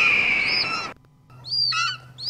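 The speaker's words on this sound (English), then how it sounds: "The birds are coming to attack our fearless band of good doers." Bird calls from an attacking flock in a movie scene, high chirping cries that start loud and dense, break off into a short near-silence, then come back as sharp repeated calls over a low steady hum.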